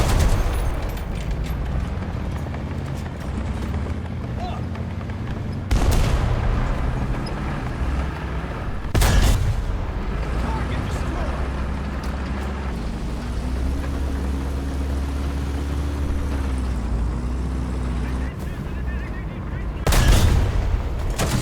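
Tank cannon shots in the War Thunder video game, fired from an M36 tank destroyer: four sharp, heavy booms spread across the stretch over a constant low engine rumble, with a faint whining tone in between.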